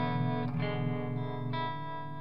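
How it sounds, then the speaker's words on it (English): Electric guitar played through a Strymon Flint pedal on its '61 tremolo vibrato setting, a sustained chord with a wavering, pulsing shimmer and a fresh strum partway through, loud and alone. "It has this really cool vibrato, the 61 tremolo setting."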